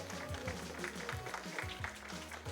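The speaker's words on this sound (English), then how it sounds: "So a round of applause for all of you back there and over here." A crowd at a Fastest Furs speedrun charity event at FWA 2024 gives a round of applause, a sustained wash of clapping with some tonal background sound running underneath.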